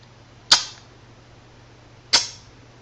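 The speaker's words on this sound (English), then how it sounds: "This sound is therefore sometimes referred to as the dental click." Two sharp, crisp dental clicks made by pulling the tongue tip off the ridge behind the upper front teeth, spaced about a second and a half apart, close and isolated against quiet.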